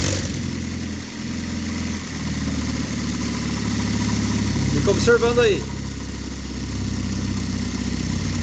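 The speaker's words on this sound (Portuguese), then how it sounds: "Então eu vou funcionar aqui agora o motor" Car engine running at a low, steady idle throughout, with a brief squeal-like sweep partway through and someone speaking over it.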